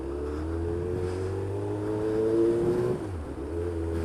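A 2008 Honda Hornet CB600FA motorcycle engine pulls out on a rural road, its steady tone climbing in pitch as it accelerates, then dropping briefly with a gear change before resuming, close and loud over wind.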